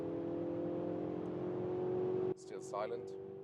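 A car engine hums steadily as the vehicle picks up speed, then cuts abruptly to quieter cabin sound with someone speaking briefly.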